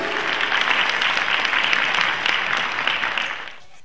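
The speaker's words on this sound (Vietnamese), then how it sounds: "hãy chào đón một tràng pháo tay thật dài" An audience at a memorial-day performance of Vietnamese tân cổ music gives the duo of singers a long, steady round of clapping that fades out at the end.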